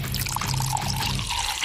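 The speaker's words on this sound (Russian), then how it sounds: "Использую запасы мицеллярной воды." Micellar water poured in a short, steady splashing stream that lasts under two seconds, close and fairly quiet.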